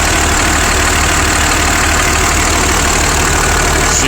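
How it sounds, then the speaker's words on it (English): A large diesel engine with no blow-by idles up close, a steady, loud mechanical drone with an even low knocking throb and no break or change in pace. "Those are the kind of engines you want right there."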